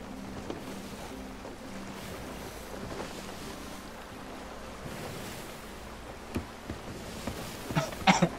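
Sailing ship on open ocean in Sea of Thieves, with a steady wash of waves and wind and a low creaking hum, ending in a few sharp clattering knocks close by.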